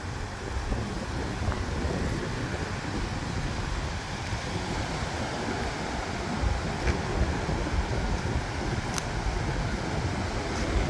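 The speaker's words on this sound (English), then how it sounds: "but it's quite windy here, folks." Strong wind buffets the microphone on a beach at Icacos in south Trinidad, a steady loud roar mixed with surf, continuous for the whole stretch without voices.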